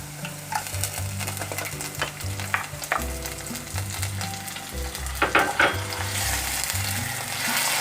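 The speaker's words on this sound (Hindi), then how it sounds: "कलर चेंज होने तक फ्राई करेंगे।" Chicken keema sizzling and frying in a pan, with a steady loud crackle and intermittent stirring scrapes throughout, no voices.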